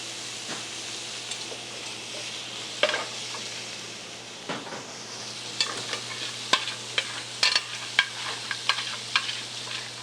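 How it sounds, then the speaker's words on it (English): Diced pancetta fries in olive oil, giving a steady hissing sizzle with intermittent spatters and crackling pops that grow busier toward the end, close and without voices. "Diced pancetta starts the dish. Touch of olive oil to add to it."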